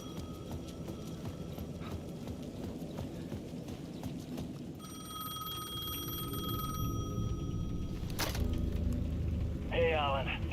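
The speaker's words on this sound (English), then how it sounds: "The payphone at the edge of the plaza was ringing again." An electronic payphone ring in Alan Wake 2 chimes in a steady tone through the middle, with footsteps clopping and ambient noise; a brief crack follows.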